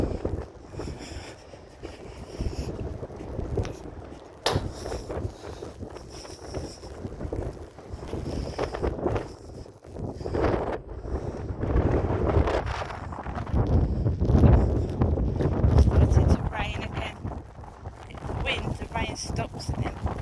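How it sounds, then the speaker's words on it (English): Strong gusting wind buffets the microphone on an outdoor morning walk, roaring and surging in waves under intermittent talking. "This wind is terrible, I'm so sorry."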